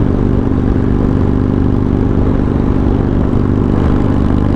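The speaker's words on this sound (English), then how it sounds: "Give it heavy throttle. This thing is slowly dying out on me right now." Buell motorcycle engine straining under heavy throttle while slowly dying out, a loud, steady, rough low drone that continues throughout with no voices.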